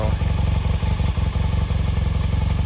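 A Honda motorcycle engine running at idle close by, a steady rapid thumping pulse with a slight clatter, no talk.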